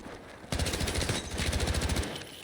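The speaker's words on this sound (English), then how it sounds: "That might be the nastiest sniper shot I've hit." A sniper rifle shot in the video game Battlefield REDSEC, a sudden loud report followed by a rapid rattling burst of fire that continues for about a second and a half, with no speech.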